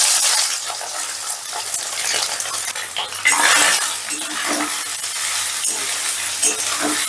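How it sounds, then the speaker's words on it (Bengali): Soybean chunks sizzle and fry in hot mustard oil in a wok over a gas flame, with a steady crackle broken by stirring scrapes and clinks, up close and without speech. "তেলটা গরম হয়ে গেলে দিয়ে দিচ্ছি সয়াবিন।"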